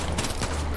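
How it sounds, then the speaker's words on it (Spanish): A dense burst of rapid machine gun fire in the shooter game Far Cry New Dawn, one continuous, loud, crackling volley with no talk. "¡Ay, que es una ametralladora!"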